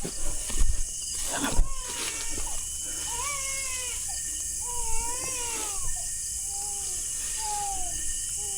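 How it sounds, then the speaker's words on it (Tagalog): Child crying in repeated short wailing cries, rising and falling, heard over a steady high-pitched background hum with a couple of thumps early on. "Iyak ng bata, guys."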